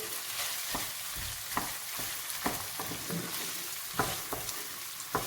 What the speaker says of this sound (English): Let it fry a bit. Put the onion inside.